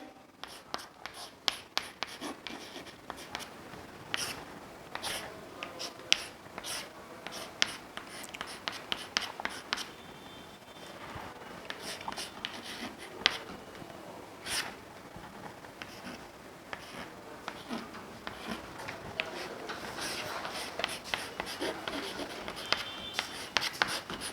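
Chalk or pen scratching out chemistry equations on a board in a Class XII lesson, a long run of quick taps and strokes with brief pauses, close and fairly steady, no talking.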